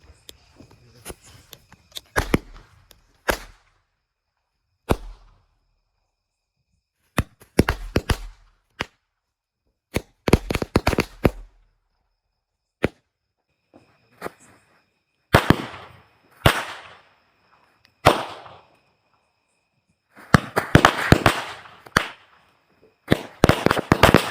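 Bundled firecrackers burst in scattered sharp bangs and crackling volleys, some single pops and some rapid clustered bursts, loud against silent gaps over about twenty seconds.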